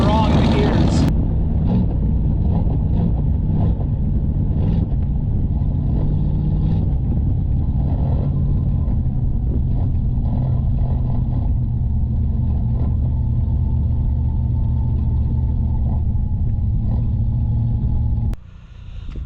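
An old vehicle engine with something loose in its gears runs for most of the clip, a steady close-up rumble with a clattering, uneven mechanical edge, cutting off near the end.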